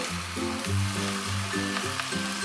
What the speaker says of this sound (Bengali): সেই পুঁই শাকগুলো আমি এর ভেতরে দিয়ে দেব